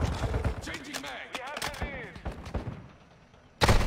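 Bursts of video game gunfire in a soccer-themed shooter match, several sharp close shots scattered across the moment then a loud final blast, with tonal game effects ringing between them and no talking.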